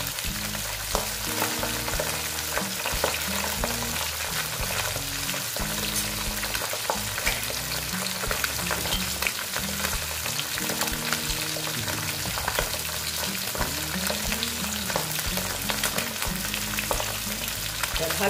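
Pabda fish fry in hot oil with a dense, steady sizzle and crackle that fills the whole stretch without pause, close and loud, with no talking.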